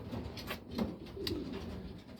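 Pigeons cooing in a loft, a few low soft coos rising out of a quiet murmuring background, fairly faint and with no talking.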